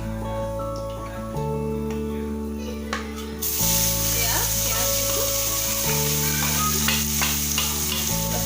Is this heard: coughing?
no